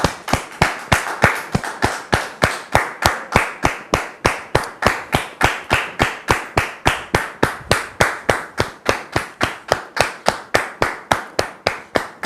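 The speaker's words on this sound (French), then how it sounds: "on le reçoit maintenant sous vos applaudissements" A television studio audience welcomes a guest onto a French talk-show set with loud rhythmic clapping in unison, about three sharp, even claps per second kept up steadily throughout.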